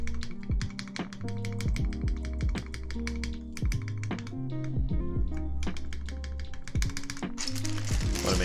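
Mechanical keyboard with Cherry MX Black switches, typed on close up: rapid, uneven clacks and taps come in dense bursts, with no one speaking.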